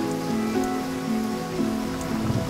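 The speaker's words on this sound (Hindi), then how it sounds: "ऐसी बारिश पहले कभी नहीं हुई।" Heavy monsoon-like rain falls steadily at a railway junction as a constant wash under sustained tonal music, with no clear individual drops and no talking.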